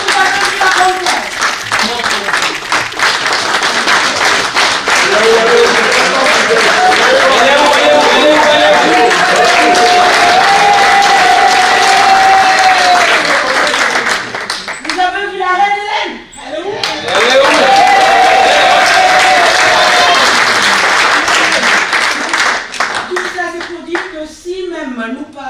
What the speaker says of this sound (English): que vous applaudissez pour notre reine de cœur